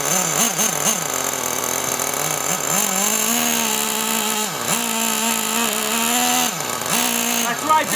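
A Traxxas T-Maxx 3.3 nitro RC truck engine runs indoors with a loud, buzzing whine that rises and falls repeatedly as the throttle is blipped, filling the whole stretch without pause.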